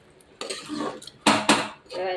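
A metal spoon scrapes and clinks against a pot while stirring a cluster bean and potato curry, in a few loud, close bursts with short pauses between them.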